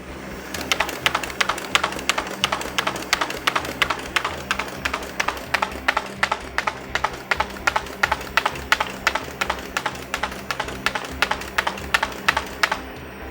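A Martin Yale 1812 paper folder runs through a stack of 8.5 by 11 sheets, giving a fast, steady rhythm of sharp clacks over a low mechanical hum for over ten seconds.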